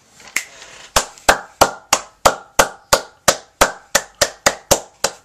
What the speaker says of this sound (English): why am I clapping?